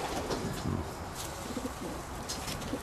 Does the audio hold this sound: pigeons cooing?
yes